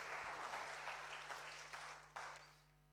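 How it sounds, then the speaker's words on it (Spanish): Applause from a church congregation, a steady broad clatter of many hands that tapers off toward the end with a low hum underneath. "Dale un aplauso al Señor"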